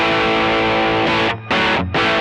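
Electric guitar played through a TC Electronic Nova Drive pedal with its overdrive and distortion running in parallel, a loud, dense, saturated tone that holds steady and then cuts out briefly twice between strummed chords.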